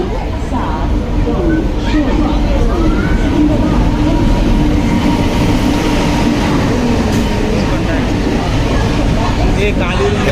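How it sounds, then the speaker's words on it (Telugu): A train rumbles and clatters loudly nearby, its steady roar filling the scene as it pulls in, with people talking over the noise. "అది మన ట్రైన్ వచ్చేస్తుంది విజయవాడ వెళ్ళే ట్రైన్ వస్తుంది"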